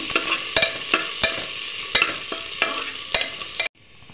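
Onion and spices sizzle in hot oil while a utensil scrapes and taps the pan in irregular strokes, then the sound stops suddenly.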